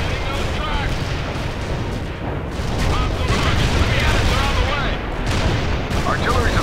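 Artillery fire booms in the Cold War strategy game World in Conflict during a battle for Pine Valley, loud, dense rumbling blasts running continuously with heavier bursts toward the middle.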